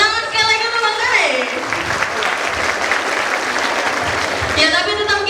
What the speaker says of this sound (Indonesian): Tepuk tangan sekali lagi untuk Bang Ter.